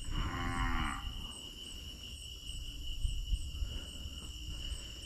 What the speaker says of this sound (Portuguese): O que eu escutei ali foi uma vaca, certo?